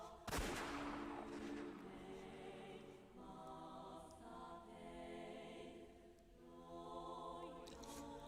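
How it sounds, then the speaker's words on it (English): A single rifle shot rings out in the Umineko visual novel, a sharp burst near the start that decays into a ringing tail over steady background music with a soft rumble, no speech. "The gunshot wasn't loud. It wasn't like the bang sounds from TV or the movies."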